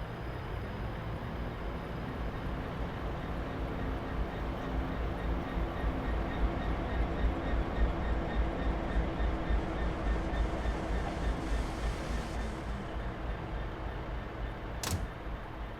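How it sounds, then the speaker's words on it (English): Continuous heavy rumble of a Class 66 diesel freight train rolling past in Train Simulator 2017, loud and steady throughout with a brief bright clank near the end. "Looks like we've got a freighter coming through. Like a Class 66."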